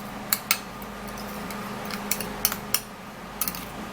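A spoon stirs green tea and lemon juice in a bowl, giving a few light, scattered clinks and scrapes over a quiet room hum.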